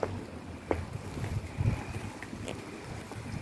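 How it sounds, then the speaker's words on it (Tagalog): Strong wind buffets a microphone in Japan in a steady low rumble, with gusts rising and falling throughout and no voices. "lakas ng hangin day"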